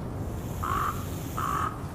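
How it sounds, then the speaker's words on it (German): Two harsh raven caws in the video game The Flame in the Flood, evenly spaced over a steady ambient hiss, with no one speaking. "Die Raben sind noch wieder zurückgekehrt."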